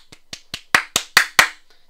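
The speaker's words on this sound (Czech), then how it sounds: "tleskám" A person claps by hand seven times at an even pace, starting soft and growing louder and sharper, close to the mic with nothing else heard.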